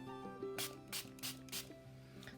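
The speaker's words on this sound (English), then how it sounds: "It's a fine spray." A spray bottle mists fine water onto a painting board in three sharp, hissing spritzes in quick succession, with a fainter fourth at the end, over a soft steady tonal background.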